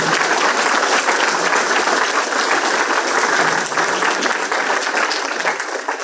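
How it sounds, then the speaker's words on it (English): Sustained applause from a large crowd, a dense steady roar of clapping that fills the whole stretch and tapers slightly at the end. "Applause."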